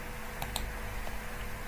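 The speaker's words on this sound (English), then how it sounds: "so that I continue typing" A few light keystrokes tap on a computer keyboard, faint, close and sparse over a steady background hum.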